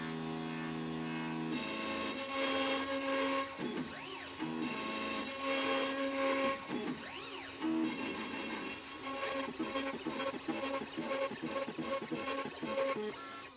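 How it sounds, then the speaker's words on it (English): An X-Carve Pro CNC router with its spindle spinning up and carving, a steady whine with bursts of rhythmic cutting chatter and sweeping pitch changes, loud and close with no talking. "I'm gonna turn on the spindle."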